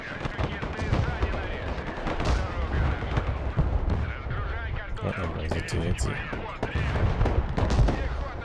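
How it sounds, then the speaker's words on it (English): A ballistic missile strike lands in the video game Broken Arrow amid dense, continuous battlefield gunfire and heavy blasts that rumble and crackle throughout, with voices talking over the din. "Oh, that's a ballistic missile."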